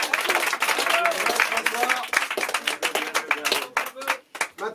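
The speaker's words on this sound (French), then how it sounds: "On applaudit Nat la fraise, Lofo." A studio audience on a French television game show claps in dense, steady applause that tapers off near the end, with voices mixed in.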